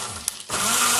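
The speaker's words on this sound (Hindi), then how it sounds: "बहुत ही पावरफुल इसका ब्लेंडर" An IKON mini blender motor kicks in partway through after a brief click, then runs as a loud, steady whirring roar to the end.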